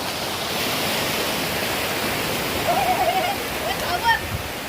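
Steady broadband rush of a monsoon waterfall pouring down at a rural riverside spot, filling the whole clip at a constant level, with faint voices rising briefly over it near the end.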